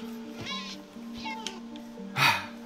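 Cat meowing in a Minecraft-style video game, a few short meows against a steady game tone, with one louder cry near the end.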